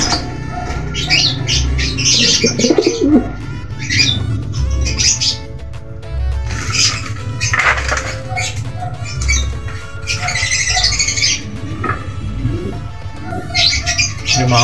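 Pigeons in a coop call continuously, with soft low coos overlapping brighter squawks and chirps, close and fairly loud throughout with no talking.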